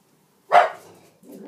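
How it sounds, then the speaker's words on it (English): A single loud dog bark rings out close by in an indoor room during a sheet-mask skincare session, followed by quieter rustling and a softer trailing sound. "Excuse my dog."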